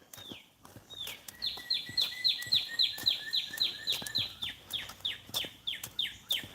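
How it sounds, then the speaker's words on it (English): A bird sings a fast, repeated series of bright, sweeping chirps, loud and close, in a steady rhythm with quiet clicks around it. "Listen to the birds."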